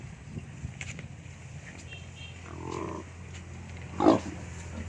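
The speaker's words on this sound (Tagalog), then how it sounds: "Tingnan natin guys ang ating native na baboy." A native pig on a farm grunts a few times, faint and short against a quiet outdoor background, with one louder grunt or squeal near the end.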